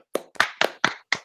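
Five sharp hand claps in a steady, slightly uneven rhythm, close and crisp with silence between.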